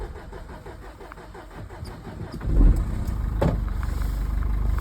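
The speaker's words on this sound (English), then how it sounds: "Foot's flat to the floor, won't go past 1000 RPM." Older Nissan NV200 van engine with a blocked diesel particulate filter, turning over and running with a low rough rumble that rises when the throttle is floored but stays capped at a low rev, heard close.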